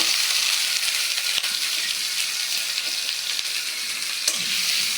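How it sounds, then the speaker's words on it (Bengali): Chopped onion and sliced green chili frying in hot oil in a kadai, a dense, loud, continuous sizzle with a few sharp stirring knocks and no talk. "আমি পেঁয়াজটা ভালো করে ভেজে নেব।"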